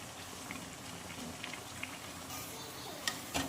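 Bread vada frying in hot oil, a quiet continuous bubbling sizzle with scattered pops and crackles, faint and steady with no talk.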